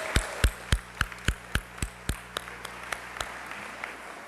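Audience applause at a recorded event comes as a slow, evenly spaced run of about fifteen crisp claps that gradually soften and fade, close by with no talk over them.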